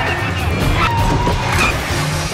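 Sideswipe crash from a car chase in The Bourne Supremacy (2004): a loud scraping impact and crunch of metal amid roaring engines and tire noise, dense and continuous throughout.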